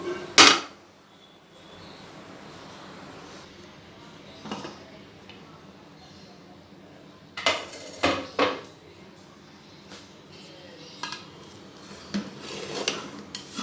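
Metallic clinks and clatters of a pressure cooker lid being opened after cooking dal, with a sharp clang at the start and scattered knocks and rattles afterward over quiet background.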